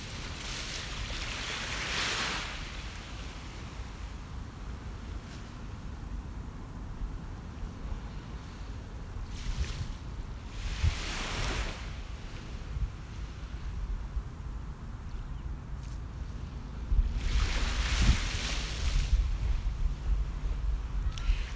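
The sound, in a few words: ocean waves crashing on shore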